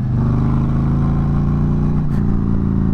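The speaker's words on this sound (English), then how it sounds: "Let me rev it up." A motorcycle engine revs up toward 4,000 RPM, heard through a helmet-mounted microphone, producing a loud, steady drone throughout with a brief dip near the end.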